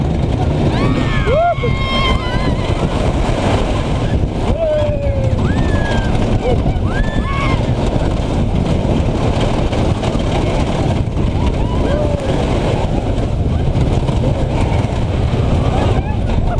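A wooden roller coaster at Europa Park in December roars and rumbles continuously along the track, loud and close throughout, with riders' voices talking and shouting over the rattle.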